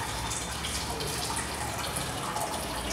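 Water running and dripping steadily into a collecting cylinder during a constant head soil permeability test, a continuous soft splashing trickle, close and fairly quiet, with no talk over it.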